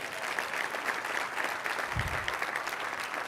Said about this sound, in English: So give that brother a round of applause.